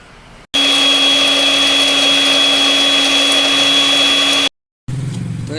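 A kitchen grinder or blender whirs at full power pulverizing herbal remedy ingredients, a loud, steady motor whine lasting about four seconds before cutting off abruptly, then a short rattle as it restarts.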